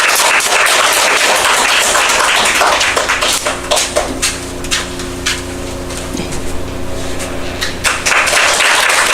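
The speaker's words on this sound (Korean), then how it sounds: "준비해 주신 분들을 위해 큰 박수로 받아주시기 바랍니다." A church congregation applauds during a 30th-anniversary thanksgiving service, with loud, crowded clapping in a reverberant hall that thins into scattered claps and then swells again.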